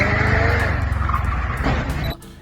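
A McLaren 675LT engine roars at close range as it accelerates hard leaving a hotel, then cuts off sharply with a short crunching noise of a crash near the end.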